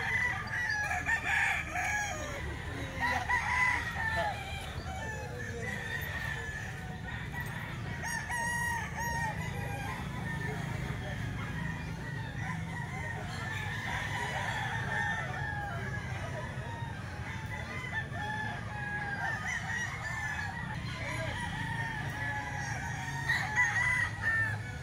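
A crowded chorus of roosters at a gamefowl farm crows and clucks without pause, some calls ringing out close and loud while others overlap faintly in the distance.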